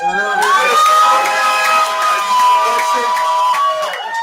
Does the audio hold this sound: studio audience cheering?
yes